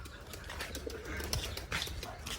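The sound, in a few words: pigeons cooing inside pigeon loft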